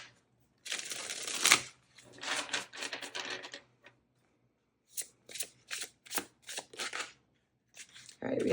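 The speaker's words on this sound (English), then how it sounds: "All right, one more shuffle." Tarot cards shuffled by hand in bursts of crisp riffling and slapping, close and fairly loud, with several separate shuffles broken by short pauses and a quick final flutter.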